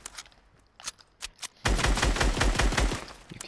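Gunfire in the video game Fortnite shooting through a wall: a few scattered single shots, then a sustained loud burst of rapid automatic fire.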